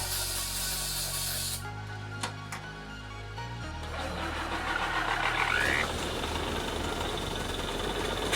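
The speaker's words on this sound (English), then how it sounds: "shoot some carb cleaner down it" Carb cleaner sprays in a hissing burst onto the carburetor of a Willys Jeep, followed by the engine sputtering and catching into a rough, steady idle nearby.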